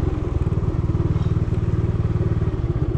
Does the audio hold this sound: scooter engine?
yes